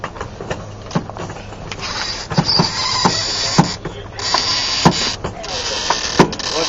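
A sailboat winch being ground to tighten a reefing line during mainsail reefing practice for a racing crew, giving a series of sharp ratcheting clicks in uneven bursts over outdoor wind noise.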